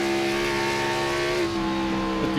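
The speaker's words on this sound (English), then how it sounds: "see who else we can hear clutching those race cars" Race car engines in the iRacing sim at Dover Motor Speedway give a steady, loud, buzzing drone with layered harmonic tones. The pitch dips slightly midway as a driver works the clutch, with no talk.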